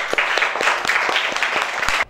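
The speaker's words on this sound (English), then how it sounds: "Let us clap for us." Children clapping together after a classroom language game, a quick run of about ten fairly even claps, close and clear, ending abruptly.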